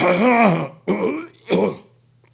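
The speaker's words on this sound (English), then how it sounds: "trying to clear my throat." A man clears his throat three times in quick succession, close and loud, each a rough guttural rasp with short pauses between.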